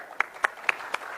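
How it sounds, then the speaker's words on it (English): Hands clap in a steady rhythm at a Durand Cup trophy ceremony with a Bodoland cultural troupe, five evenly spaced sharp claps standing out over a low background murmur. "give a huge round of applause for our vibrant cultural troupe"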